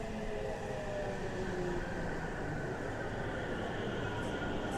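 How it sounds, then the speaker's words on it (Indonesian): Aichi Loop Line commuter train, just two cars, rolling past on a quiet stretch of track, a steady continuous rumble of wheels and motors held close and loud for the whole stretch. "Tuh udah nampak penampakan kereta Aichi Loop Line."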